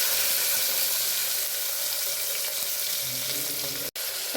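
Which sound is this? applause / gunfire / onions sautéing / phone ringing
onions sautéing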